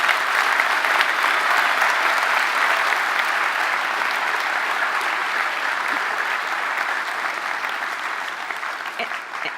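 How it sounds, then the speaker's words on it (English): A large audience claps steadily for a guest speaker at a Michigan Tech talk, a loud, dense and sustained wash of applause that tapers slightly toward the end, with no voices over it. "if we could all give our speaker a round of applause"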